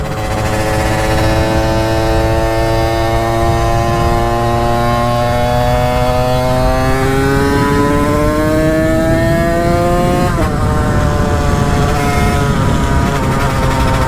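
Derby moped fitted with a 75 MVT kit, ridden at speed as its buzzing two-stroke engine climbs steadily in pitch, then dips and carries on, loud and close with wind roar and no talking.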